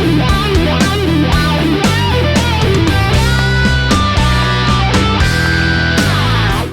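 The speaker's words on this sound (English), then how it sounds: "Check it out with our wah pedal." Distorted electric guitar playing a repetitive hybrid-picked rock lick through a wah pedal, loud and continuous with rapid bright notes sweeping in tone, no talking.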